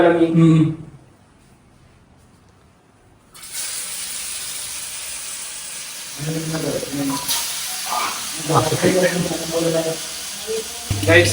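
Chicken frying in hot oil: a steady, bright sizzle kicks in after a brief quiet moment and continues throughout, with a person talking over it.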